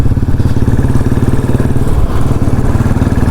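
A motorbike rides along on a pilgrimage trip after a repair to its handling, its engine chugging steadily and loud, close and continuous throughout.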